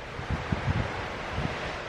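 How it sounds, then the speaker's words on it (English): Strong wind buffets the microphone on a white rock by the sea at Eastbourne, a constant rushing roar with a few low gusty thumps. "it's just very windy"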